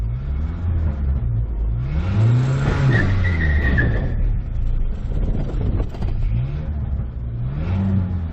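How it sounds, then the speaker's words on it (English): A 1996 Ford Ranger pickup with a stick shift revs hard in a failed burnout attempt, its engine climbing and falling in repeated loud, close surges with no talking. "I think it just doesn't have the guts for a burnout."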